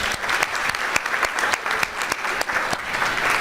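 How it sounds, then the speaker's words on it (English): Audience applause at the close of a two-day workshop, with dense, steady clapping from a room full of people that holds level throughout and has no talk over it. "Round of applause for all of the groups and all of you."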